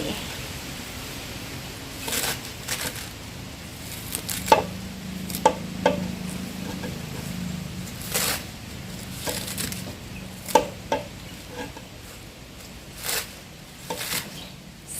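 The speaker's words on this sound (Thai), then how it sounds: "แม่จะ ถือกำแล้วก็หั่นลงเลยค่ะ" A knife chops a handful of herbs, dill among them, for a Thai steamed fish curry: a dozen or so irregular, crisp cuts against a steady low background hum.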